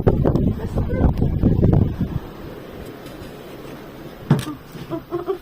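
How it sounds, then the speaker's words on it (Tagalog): Strong gusts batter the microphone in the first couple of seconds, then ease into a low rush with a few scattered knocks and rustles. "Lakas ng hangin na naman."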